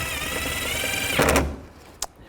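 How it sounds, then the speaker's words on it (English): A power screwdriver whirs steadily while driving screws during weatherstrip seal replacement on a 1999-2006 Chevrolet Silverado, then stops with a couple of sharp clicks as the screws snug down. "Put the screws in."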